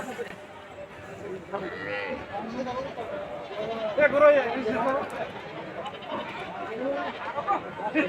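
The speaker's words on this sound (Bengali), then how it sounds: "এই ছাগলের হাট প্রচুর পরিমাণ ভিড়" Goats bleat at a crowded goat and cattle market, several calls rising above a dense bed of chatter and people talking, with livestock and crowd noise continuing throughout.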